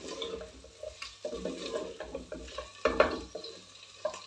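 Chicken pieces and onion frying in a pan for palak chicken, with a low steady sizzle broken by repeated scrapes and stirring knocks of a spoon, one louder clatter near the end.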